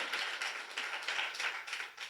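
A congregation at a thanksgiving church gathering claps in a quick, steady burst of applause, fairly close and lively for about two seconds, with no one speaking.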